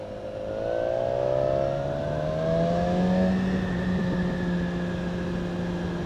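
A BMW S1000XR motorcycle engine drones steadily on twisty Andorra mountain roads, holding a smooth sustained note that rises and shifts in pitch as the rider works through the bends, heard close and alone without speech.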